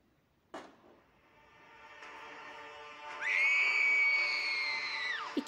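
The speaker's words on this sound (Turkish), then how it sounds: "Eski bir elbise giymiş olan Mina çığlık sesine doğru koştu" A piercing, high scream rises and holds for a couple of seconds inside a castle, echoing and ringing out alone after a faint preceding whine, then cutting off abruptly.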